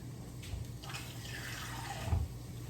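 Water is poured into a pot of macaroni and cheese, a soft, fairly quiet splash and trickle that runs for a couple of seconds.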